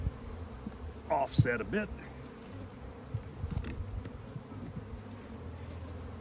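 Honeybees hum around an opened nuc hive being split, a soft continuous buzz with occasional louder passes near the microphone, under a beekeeper's brief talk and some handling clatter.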